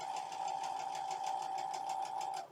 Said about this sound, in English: one of the other things that I'm doing as I'm sewing these up together is I'm watching